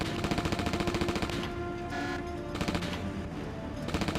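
Rapid bursts of laser fire from a GameCube shooting game, a steady stuttering stream of shots that pauses briefly mid-clip and then resumes, loud and continuous over a busy game soundtrack.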